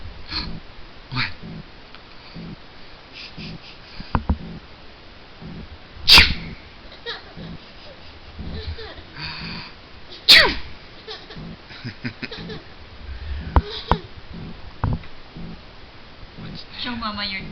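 A baby sneezes twice, sharp and close, about four seconds apart, amid a home scene with adults talking and a baby babbling and making small vocal sounds throughout.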